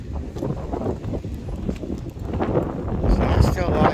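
Gusty wind rumbles and buffets a microphone, growing stronger toward the end, with talk mixed in.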